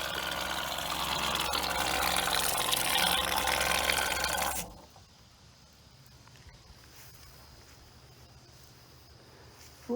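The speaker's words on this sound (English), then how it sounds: "I wanted to show you the water faucet back here" Water gushes loudly from an outdoor faucet on an RV for about four and a half seconds, then cuts off abruptly, leaving quiet room tone.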